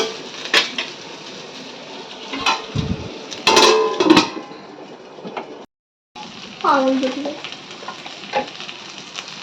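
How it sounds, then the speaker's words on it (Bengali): Potatoes fry in a home kitchen pan with a loud, steady sizzle, broken by spatula scrapes and the clatter of cookware as they are stirred; people talk nearby, and the sizzle cuts out briefly. "আলু ভাজা"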